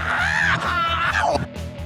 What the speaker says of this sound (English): if you play that clip backwards, it sounds like this.